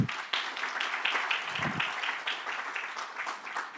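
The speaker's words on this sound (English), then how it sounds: "Applause." Steady audience applause at a stakeholder forum on building and design, dense clapping from many hands filling the room at an even level with a faint voice near the start.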